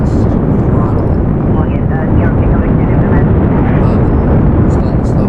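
A rocket engine throttling up in Kerbal Space Program VR, a loud, steady, dense roar that fills the whole clip without pause.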